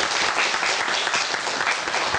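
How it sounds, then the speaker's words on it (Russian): A studio audience on a television show claps in a steady, dense burst of applause, loud and continuous with no talk over it. "Ваши аплодисменты."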